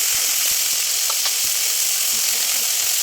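Water poured onto fried onions in a hot pan for a fish curry, giving a loud, continuous hiss and sizzle throughout with a few faint stirring scrapes and no talk.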